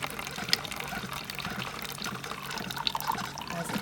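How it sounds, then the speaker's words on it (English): A blueberry K-cup brews in a single-serve coffee maker, a steady close hiss of water streaming and gurgling into a mug, with a couple of faint clicks and taps over it. "Add my blueberry K-cup, and just to get started brewing"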